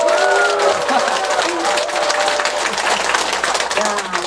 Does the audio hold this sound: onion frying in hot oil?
no